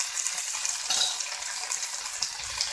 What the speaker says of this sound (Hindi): हमको बहुत ज़्यादा पकाना नहीं है, बस थोड़ा सा इसको सौते करना है।